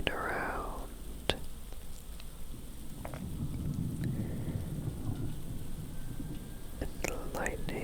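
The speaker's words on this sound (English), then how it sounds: "the lightning, then the thunder," Rainstorm at night in Kingdom Come Deliverance 2, with steady rain patter and low rolling thunder, sharp cracks of lightning, and a man whispering softly over it.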